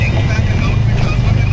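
Dense road traffic near Airoli as a steady, loud low rumble of engines, a close continuous roar without clear individual passes.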